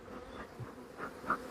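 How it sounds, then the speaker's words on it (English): Agitated honey bees buzz around an opened beehive, several close, wavering drones rising and passing in quick succession over a low steady hum, with no talk. "Oh, these bees are really not happy, as you can see."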